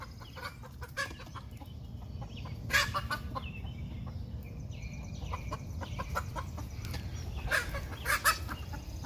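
Buff Orpington and Golden Comet hens mixed into one flock, clucking and squawking as they sort out the pecking order, several birds near and steady over a low background murmur.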